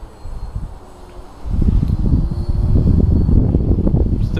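Electric motors of a small remote-control VTOL aircraft with raised motor pods, slowing through transition into a hover outdoors in wind; a steady loud whirring hum steps up sharply after a quieter start and holds near the microphone.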